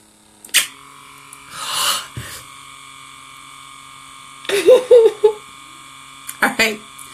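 Comedo pore vacuum on its lowest suction setting, giving a steady low electric hum throughout, with short bursts of handling noise and brief talk over it.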